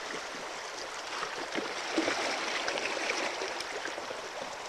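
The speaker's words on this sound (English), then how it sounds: "Now, we fill up with water." River water rushes steadily into a wire-bottomed plastic milk crate used for classifying gold-bearing material, a dense, close gurgling hiss that holds throughout.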